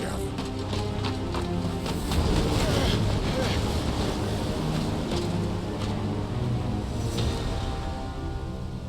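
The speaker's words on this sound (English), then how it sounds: "That's not just windy weather you're wandering into." Windy weather in the video game Final Fantasy XVI: a steady, loud gusting rush of wind with a hollow, wave-like roar that swells slightly midway, continuous for about nine seconds with no voices.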